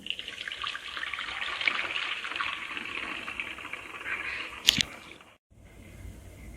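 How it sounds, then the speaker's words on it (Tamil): Curdled milk for rasmalai pours through a cloth laid over a filter, a steady splashing liquid stream that runs for several seconds, gives a brief sharper splash near the end, then drops to a quiet trickle. "இப்போ வச்சிருக்கிற பால் எல்லாத்தையும் ஊற்றிடலாம்."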